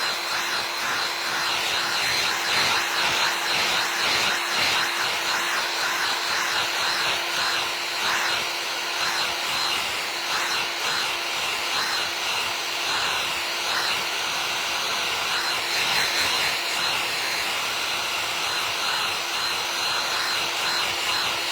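Hair dryer blowing steadily while drying paint on a vintage travel makeup case, a loud continuous whooshing whir with a constant tone, close and unbroken, with no talking.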